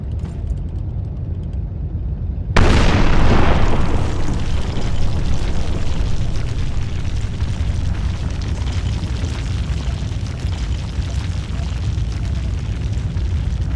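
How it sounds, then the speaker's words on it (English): A detonated mine explodes in the VR game Lagazuoi, set in a WWI mountain cave: a sudden loud, deep boom after a quiet stretch, then a long roaring rumble of falling gravel, dust and debris. "Gravel, dust and debris were forming after the explosion."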